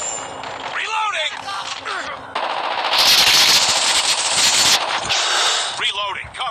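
Rapid automatic gunfire in the mobile shooter game Call of Duty Mobile, loud bursts of machine-gun fire swelling in the middle with shorter shots around it, game voice lines heard at the start and end.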